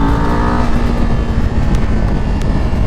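A QJMotor Race 450 motorcycle engine revs hard near 9000 rpm, a loud, close, sustained high-pitched engine roar that holds steady with slight pitch shifts throughout.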